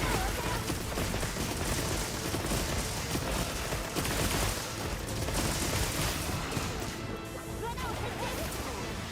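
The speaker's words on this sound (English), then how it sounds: "Firing pierce ammo, dude." Pierce ammo fired from a weapon in Monster Hunter Wilds, a relentless barrage of loud crashing shots and impacts that runs without pause through the whole stretch.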